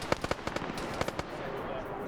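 Rapid bursts of heavy-caliber gunfire crackle in a video game military defensive operation, sharp cracks in quick clusters during the first second and a quieter burst near the middle, then a lingering rumble.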